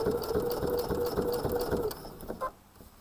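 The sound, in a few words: sewing machine stitching binding with bi-level foot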